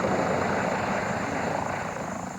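Rescue helicopters in flight during a Red Cross operation after a train tunnel fire, a close, loud, continuous rotor thrum with a steady pulsing chop throughout.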